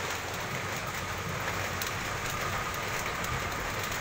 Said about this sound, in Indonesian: Nah, ini kondisi lagi hujan.